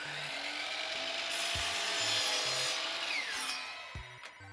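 A miter saw resting on a support stand cuts through a piece of wood, its motor rising into a whining cut that lasts about two seconds before winding down amid faint shop clatter.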